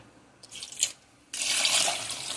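Water poured into a cooking pot holding garlic, onion and tomato, a short splash followed by a steady gushing stream running close and clear for about a second.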